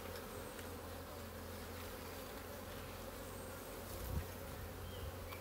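Steady dense buzzing of many Buckfast honeybees at a hive, close and continuous, with a low droning hum underneath and no talking.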